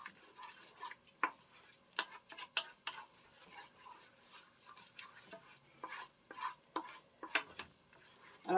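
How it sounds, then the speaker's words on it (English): A spoon scrapes and taps around a pot of thickening pie filling on the boil, a quiet run of irregular clicks and scrapes with soft bubbling between strokes and no one talking. "now I'm going to cook it and stir it and boil it for 2 minutes"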